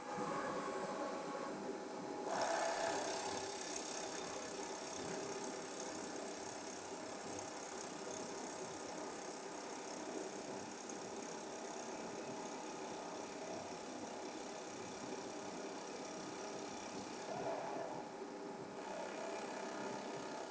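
A ProtoTRAK SMX CNC mill face milling the top of a part with a 1-inch cutter, a steady whirring machining drone with slight swells as the cutter passes back and forth, no talk.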